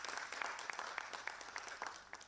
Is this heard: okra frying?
no